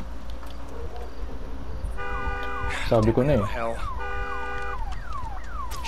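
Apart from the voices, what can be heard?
car alarm going off in the video game Days Gone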